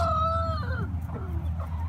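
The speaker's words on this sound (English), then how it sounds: "The reason he's crowing so odd is because we do have the no crow collar on him" A rooster wearing a no-crow collar gives one strained, oddly shaped crow that trails off into a rough, choked tail, heard close over steady low background rumble with no talk.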